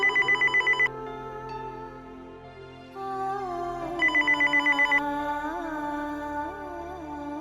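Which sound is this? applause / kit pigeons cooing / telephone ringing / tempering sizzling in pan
telephone ringing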